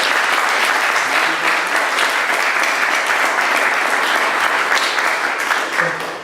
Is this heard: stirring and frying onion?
no